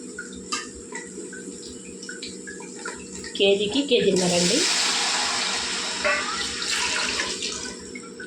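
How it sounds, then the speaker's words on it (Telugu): Water poured from a jug into a pot of mutton dum biryani, a loud gushing splash after a few seconds, with a person talking before it. "ఇప్పుడైతే మనం నీళ్ళు వేసుకుందామండి."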